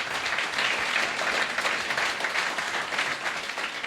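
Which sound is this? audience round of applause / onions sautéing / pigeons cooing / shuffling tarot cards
audience round of applause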